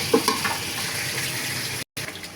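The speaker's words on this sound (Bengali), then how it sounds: "আর কমলার মা এখানে এই যে কলিজাগুলো ধুয়ে নিচ্ছে।" Chicken livers are rinsed under running water, a steady close stream from a tap with a few splashy bumps at the start and a short break near the end.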